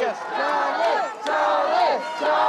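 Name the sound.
crowd cheering at Team Scotland parade, Glasgow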